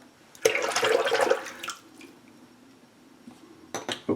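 Water from a tap runs and splashes briefly during a quick rinse after shaving, a loud burst near the start that fades into quieter trickling, then a few short splashes near the end.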